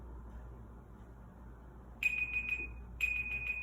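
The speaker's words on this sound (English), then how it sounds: "I'm going to push play, and when it rings, that's how long a second is." Timer alarm beeping in two short bursts of rapid, shrill repeated tones after a second of quiet room hum, close and clear.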